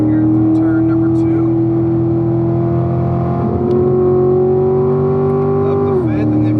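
Corvette V8 on a race track pulling hard out of a corner, its engine note rising steadily in pitch under acceleration before a quick drop at an upshift, loud and close, with a driver talking over it.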